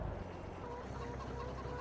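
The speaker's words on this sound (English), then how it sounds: "I think chicken takes oat." Chickens cluck steadily in the farm game Farming Simulator 22 on the Elmcreek map, a dense, continuous flock chatter at moderate volume with no speech over it.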